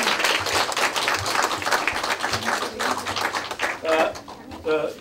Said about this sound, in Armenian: Շնորհավոր ենք նորից ծափերով բոլոր երեխաներին։